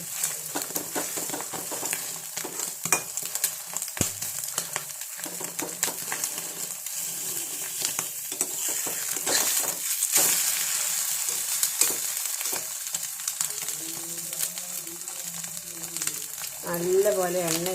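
An egg frying in a pan with only salt added, crackling and spitting in a continuous sizzle with scattered sharp pops, while a person talks intermittently over it.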